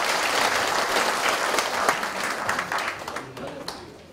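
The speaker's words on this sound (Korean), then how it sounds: "큰 박수 부탁드리도록 하겠습니다" Enthusiastic audience applause welcoming a Yonsei University economics professor before a public lecture, a dense roar of clapping from a large crowd that gradually thins toward the end.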